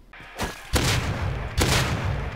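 Heavy explosions from a base raid in the survival game Rust, two loud booming blasts about a second apart that ring out and decay into sustained rumbling debris noise.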